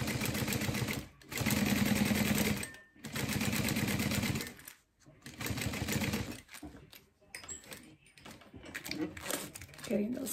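A sewing machine runs in steady, buzzing bursts as it top stitches fabric on a small organizer, with brief stops between runs and a voice talking faintly at times.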